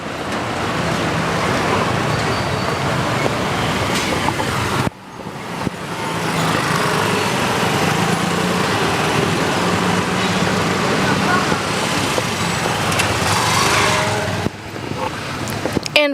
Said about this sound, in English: we are stuck in the traffic jam as usual during business days and business hours